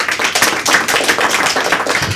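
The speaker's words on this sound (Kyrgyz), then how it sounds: "Кол чабуулар." A studio audience applauds on a Kyrgyz television talk show, with dense, steady clapping that holds at an even level for about two seconds.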